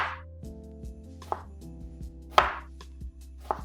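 Knife chopping through half an onion on a cutting board while preparing pumpkin penne, a few crisp separated chops over a low background hum, with no speech.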